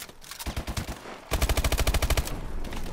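Rapid automatic gunfire rattles out in the Call of Duty Advanced Warfare campaign on PS4, two quick bursts of closely spaced shots, the second louder and more sustained.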